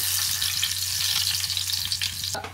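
Garlic hitting plenty of hot oil in a pot, a loud dense crackling sizzle that runs steadily throughout, close up, ending in a brief clatter.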